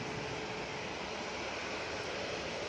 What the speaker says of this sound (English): Ryanair 737 MAX 8 about to touch down.